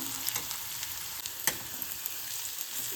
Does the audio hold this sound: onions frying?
yes